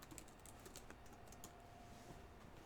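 Computer keyboard typing picked up over a voice call, a steady patter of fast key clicks under faint background hiss, no voices.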